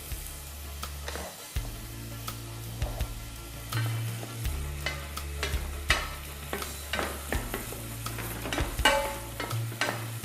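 Bell peppers hit a hot pan while cooking quinoa and are stirred, bringing steady sizzling broken by repeated scraping and knocking of the utensil against the pan, close up, over a low background hum.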